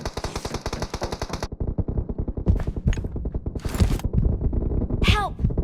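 Gunfire in the PUBG Mobile shooter game, a fast rhythmic string of loud shots followed by more scattered, overlapping bursts close by.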